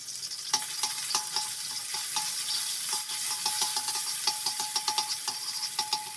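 Kang kong is stir-fried with garlic, ginger and preserved beancurd cubes in oil, giving a close, steady sizzle broken by frequent scraping and clinking of the utensil against the pan.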